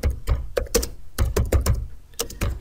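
Typing on a computer keyboard, close and clear, with quick bursts of key clicks in an uneven rhythm separated by short pauses.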